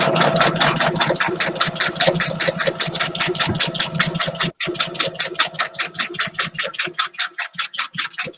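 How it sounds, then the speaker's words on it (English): A sewing machine runs a straight stitch across a plastic photo sleeve, giving a steady, fast, loud mechanical chatter of needle strokes that briefly stops, then carries on slightly unevenly to the end. "I'm just going to sew a straight stitch with my sewing machine right across the bottom"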